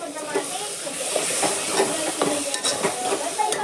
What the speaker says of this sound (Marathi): आता टोमॅटो आपण प्युरी ह्याच्यामध्ये ऍड करूया